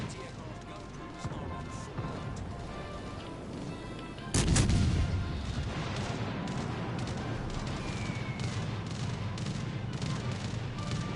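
Anti-aircraft guns in a naval warship video game, building into a sudden loud burst and then continuous rapid gunfire under a voice talking.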